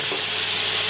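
Soy sauce hitting a hot pan while cooking pork belly for ramen, giving a dense, continuous hiss and crackle of sizzling, close and loud, with no voices.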